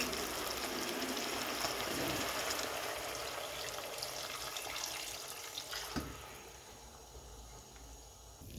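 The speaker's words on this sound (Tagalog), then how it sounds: "At maglagay ako ng tubig." Water poured into a cooking pot holding chicken and corn: a steady rushing, splashing stream runs continuously and close, easing slightly toward the end, with no talking.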